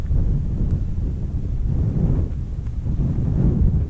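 A south-westerly wind blowing hard on Derwent Edge in the Peak District, a continuous loud low roar buffeting the microphone throughout with no talking.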